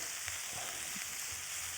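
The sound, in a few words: roasted chicken pieces frying in a pan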